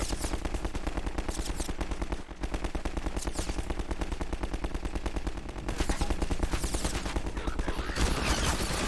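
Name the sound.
constant gunfire from enemies in the video game Half-Life 2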